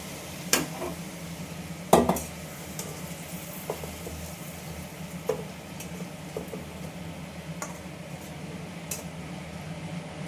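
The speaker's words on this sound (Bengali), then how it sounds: "এইবার মাংসটা আমি এই কুকারের মধ্যে ঢেলে দেব" Cooked meat is poured and scraped into a pressure cooker, heard as intermittent metallic clinks and scrapes of a spoon against the pot over a soft background hum, with a couple of louder knocks.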